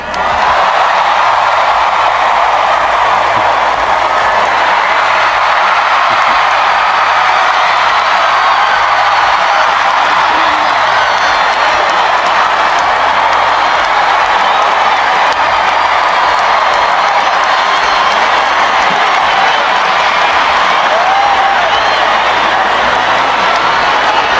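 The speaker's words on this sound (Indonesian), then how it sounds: "Tepuk tangan dan teriakan menggema di lokasi acara." A large crowd at a public event in Indonesia claps and cheers in a loud, continuous roar that holds steady throughout without letting up.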